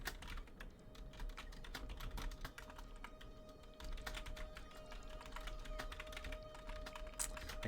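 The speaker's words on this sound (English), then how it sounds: "I cannot type with the microphone in front of the keyboard." Rapid, irregular clicking of keys on a computer keyboard, close and steady throughout, with a constant faint electronic hum underneath and no talking.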